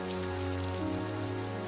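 Rain falling in a TV drama scene, a steady dense patter on surfaces with a low sustained hum beneath, continuous and even for the whole short stretch, no voices.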